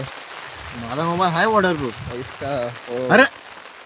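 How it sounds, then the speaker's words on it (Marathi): Heavy rain falling during an outdoor photoshoot, a steady hiss of rain on surfaces throughout with people talking over it. "आता पाऊस एवढा पडतोय"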